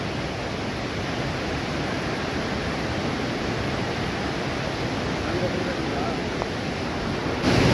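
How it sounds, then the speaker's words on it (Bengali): Fast river current rushing at Hogenakkal waterfalls in Tamil Nadu, a loud, steady broadband roar of churning water filling the whole stretch without pause. "স্রোতের স্পিডটা শুধু দেখো, কত জোরে যাচ্ছে জলটা"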